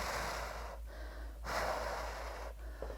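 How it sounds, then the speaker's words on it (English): Held, steady breathing during a hip flexor strength hold, with sustained airy exhales and short sniffing inhales close to the mic, repeating in slow cycles with no talk. "I'm gonna hold and breathe."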